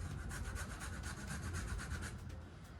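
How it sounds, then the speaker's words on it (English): A lemon is zested for strawberry rhubarb jam, giving quiet, quick, rhythmic scraping strokes in a steady run of short rasps. "Before we start cooking, I am gonna add the zest of 1 lemon."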